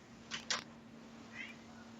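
A house cat meows quietly twice in quick succession, then gives a softer third call, all faint in the background of an indoor talk-show recording.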